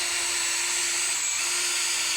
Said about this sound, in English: we're just going to drill that one in here